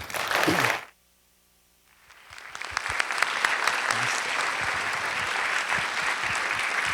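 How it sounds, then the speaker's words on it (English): A conference audience at a TED-style talk session bursts into applause, which cuts off abruptly, falls silent for about a second, then swells back into steady, sustained clapping that continues to the end. "Let's give them all a round of applause."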